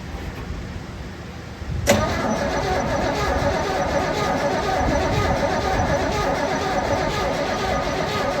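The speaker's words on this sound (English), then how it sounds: "Let's crank on this a little bit." A 1972 Chevrolet C10 engine cranking, a sudden click followed by steady, even churning of the starter turning the engine over, close and continuous for several seconds.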